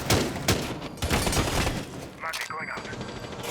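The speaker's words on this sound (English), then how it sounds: "Gunfire goes down, but Dev manages to get that kill onto Dot." Rapid bursts of gunfire crackle through a busy game mix during a competitive esports match, with a commentator talking over much of it and a brief quieter stretch near the end.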